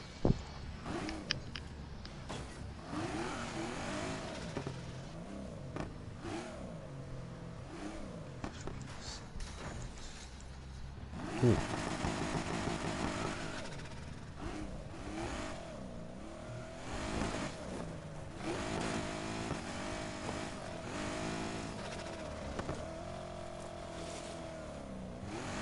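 Car engine revving and accelerating through a race in the video game Need for Speed Heat, a steady loud motor drone with shifting pitch, while someone talks intermittently over it.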